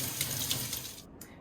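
Almonds are rinsed under running tap water in a sink, a steady close splashing rush that cuts off abruptly near the end.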